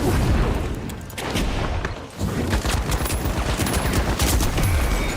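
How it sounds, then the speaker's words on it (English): Rapid gunfire and a pipe grenade blast in the video game The Finals, a dense, loud barrage of overlapping shots and booms that continues almost without pause. "Throwing pipe grenade."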